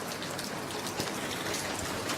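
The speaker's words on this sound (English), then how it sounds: "look at that rain" Rain falls steadily outside near a house, a dense, even hiss of drops hitting surfaces, close and constant throughout with no voices.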